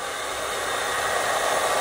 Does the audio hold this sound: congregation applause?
no